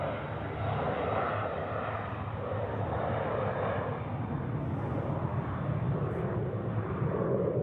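A Swiss Airbus A330 airliner at Zurich Airport rumbles as a steady, broadband engine roar that holds at a constant level throughout, close and continuous with no voices.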